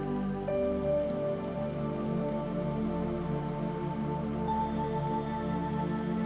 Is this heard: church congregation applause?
no